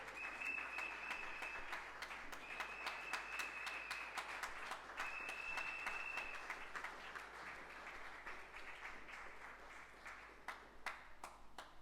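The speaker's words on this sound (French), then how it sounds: "Can we clap for him with all our strength?" A church congregation applauds together, a sustained wash of many hands clapping with sharp individual claps standing out, steady and loud throughout with a faint ringing tone drifting over it.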